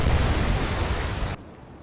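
Naval guns fire in the game Atlantic Fleet, a loud broadband blast rolling and rumbling for over a second before cutting abruptly to a faint low tail.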